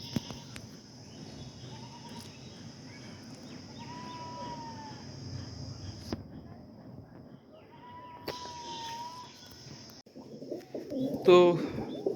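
Pet pigeons kept in cages coo softly in low, rolling calls several times, fairly close, against background noise with a steady high hum and a sharp clatter near the end.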